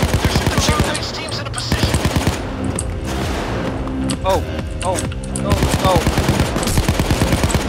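Police gunfire in a video game: loud rapid bursts of automatic shots in rhythmic volleys, broken by short pauses, with a player briefly exclaiming over it.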